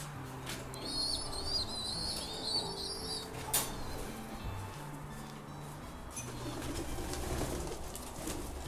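Young pigeons in a free-range shed coo in low, repeated, rolling calls, faint and fairly distant, with a few higher chirps and light shuffling between them.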